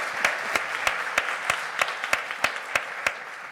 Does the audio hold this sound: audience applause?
yes